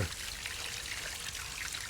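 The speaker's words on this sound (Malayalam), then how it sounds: "ബാക്ക് വാഷ് എന്ന് പറഞ്ഞതിൽ ഇട്ട് കഴിഞ്ഞാൽ വെള്ളം പുറത്തേക്കാണ് പോവുക" Water rushes out of a household water purifier's filter during a backwash cycle, making a steady close hiss of pouring and splashing that holds evenly for the whole moment with no talk.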